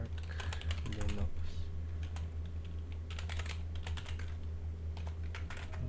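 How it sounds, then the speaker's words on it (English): Fingers type on a computer keyboard while entering Linux commands, producing quick clusters of clicking keystrokes with short pauses over a low steady electrical hum. "be very careful on typing it"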